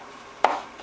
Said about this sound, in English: we're going to cut the carrot into